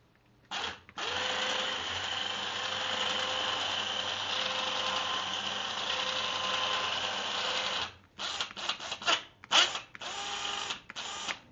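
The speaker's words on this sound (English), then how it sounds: "This winch came with a nice controller." An electric winch on a project car whirs steadily for about seven seconds after a short test blip, then stops and gives several quick on-off bursts as its controller is tapped, close and fairly loud.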